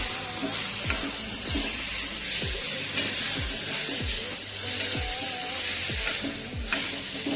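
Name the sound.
capsicum and chopped tomatoes frying and being stirred in a pan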